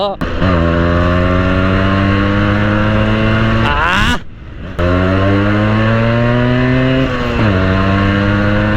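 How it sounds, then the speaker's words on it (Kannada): A loud, buzzy 132 cc single-cylinder two-stroke Yamaha RX135 motorcycle engine revs up and down close by, its pitch climbing through gears, briefly cutting out midway before roaring again. "one thirty two C C single cylinder two stroke engine ಕೊಟ್ಟಿದ್ದಾರೆ"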